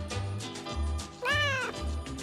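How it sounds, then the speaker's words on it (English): A domestic cat meows clearly several times in a row, close and loud, with one longer, drawn-out meow in the middle and shorter calls around it, and no talking. "it's a cat."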